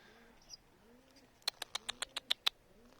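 A turtle dove's soft call, then a quick run of eight sharp, evenly spaced bursts close by, each louder than the quiet background.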